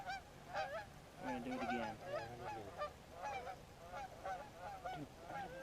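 A flock of geese honks loudly and repeatedly overhead as the birds fly in during a waterfowl hunt, their overlapping calls forming a close, continuous chorus across the whole stretch.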